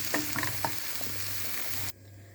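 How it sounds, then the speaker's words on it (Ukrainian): Steady sizzling of onions frying in hot oil in a pan for soup, with a few scraping stirs early on before the sizzle suddenly cuts off near the end. "У сковорідку налила олію і додаю цибульку."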